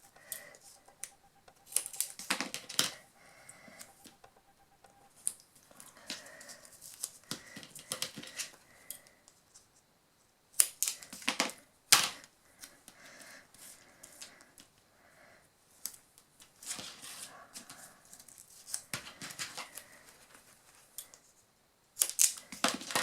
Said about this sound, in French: les ciseaux, oh, c'est pas génial de couper avec ça